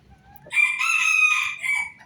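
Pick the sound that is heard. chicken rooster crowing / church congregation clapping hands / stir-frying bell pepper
chicken rooster crowing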